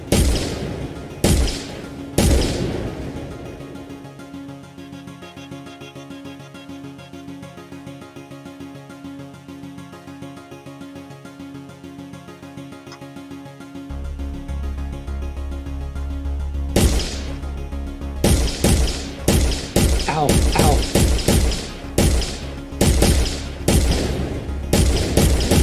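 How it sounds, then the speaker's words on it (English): Grenade launcher blasts in an Unreal Engine 4 third-person shooter, a few loud booms at the start, a long steady hum, then a rapid run of repeated explosive bangs near the end. "I'll switch to the grenade launcher."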